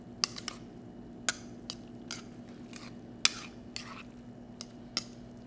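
Thai glass noodle salad with lime juice and peppers tossed in a bowl, with light utensil scrapes and clinks scattered across a steady low kitchen hum, several sharper taps standing out.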